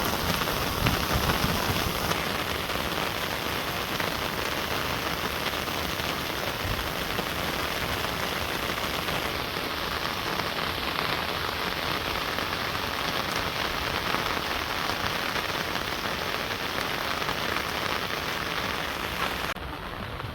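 Morning rain falls steadily on surfaces in a Bangladeshi village, a dense, even hiss of drops that continues without pause and with no voices.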